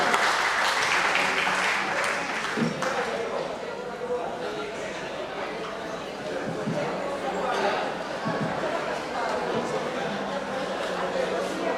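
Applause from the audience closing a plenary session of a regional church assembly, a loud burst of clapping that fills the room and then carries on under chatter and speech.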